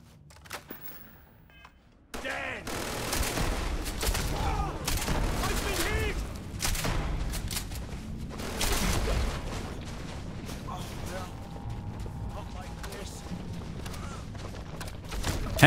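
Slow-firing gun in the space shooter Starfield, with heavy repeated shots and game combat noise filling most of the clip after a quiet opening.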